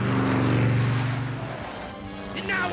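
A cartoon Transformer car speeds at full throttle, its engine a loud steady droning hum that eases off midway before a voice begins at the end.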